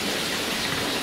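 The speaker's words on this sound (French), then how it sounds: "Il y a vraiment une tempête." Heavy rain falls during a storm, a dense, loud, continuous hiss of drops pouring down without letup.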